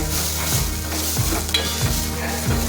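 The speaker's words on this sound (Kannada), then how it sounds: "ಚೆನ್ನಾಗಿ ಫ್ರೈ ಮಾಡ್ಕೊತಾ ಇದ್ದೀನಿ ನೋಡಿ" Carrots, sweet corn and other vegetables with salt frying in a pan, a loud close sizzle with rhythmic spatula scrapes about every half second.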